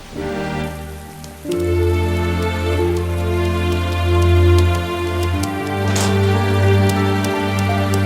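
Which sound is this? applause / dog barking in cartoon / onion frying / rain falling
rain falling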